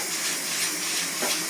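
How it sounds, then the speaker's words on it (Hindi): Besan fritters frying in a pan for a home lunch give a steady, moderately loud sizzling hiss with faint crackle throughout, no voices. "बेसन की मगोशी फ्राई कर रहे हैं"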